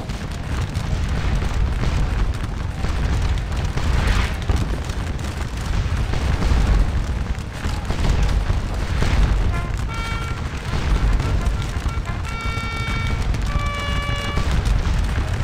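Musket volleys from Dutch infantry units in the Napoleonic battle game Scourge of War: Waterloo, a dense, continuous crackle of distant and mid-range fire rolling on without pause, with a few brief musical tones near the end.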